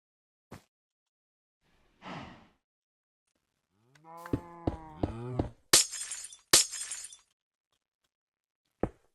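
Blocky Minecraft cows give several drawn-out moos in close succession, mixed with sharp breaking and clicking game effects, scattered across an otherwise quiet stretch with no talking.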